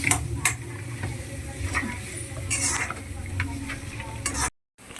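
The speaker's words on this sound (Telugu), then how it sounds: "ఈలోపు ఆనియన్స్ ఫ్రై అవుతున్నాయి కదా, అందులో కొంచెం అల్లం వెల్లుల్లి పేస్ట్ వేసుకోవాలి." Onions frying with ginger garlic paste in a home kitchen pan, a constant close sizzle with repeated scraping and clinking stirs, fairly loud, ending in a sudden cut to silence.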